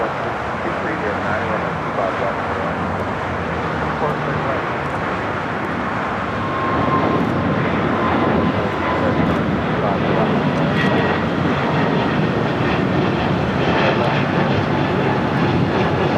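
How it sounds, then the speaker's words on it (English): A United Airlines 787-9 Dreamliner takes off at LAX on the south side, a loud continuous engine roar with broadband rush that swells partway through and holds steady, with a voice talking over it. "United Airlines flight 2614 heading to Newark, and a 787-9 Dreamliner also set for takeoff here on the south side"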